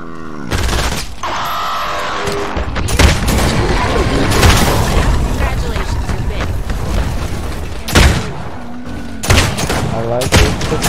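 Gunfire from a pistol with extra knockback in Fortnite Save the World, loud repeated shots and booms mixed with game effects and mechanical clatter, with a voice talking over much of it.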